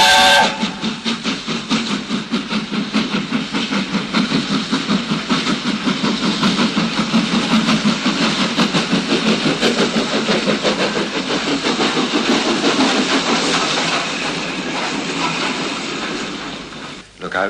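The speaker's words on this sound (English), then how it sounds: ""Bye, little Edward," said Gordon as he puffed away." A steam locomotive puffs away with a dense, steady run of rapid chuffs that stays loud and close throughout, mixed with other busy sound before fading slightly at the end.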